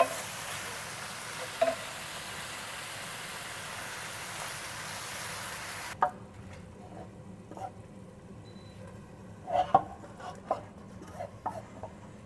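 Meat being stirred into a pan of bolognaise sauce, part of a bulk pasta batch, giving a steady sizzle with occasional spoon scrapes and clacks. The sound is close and carries on without pause, with no voices.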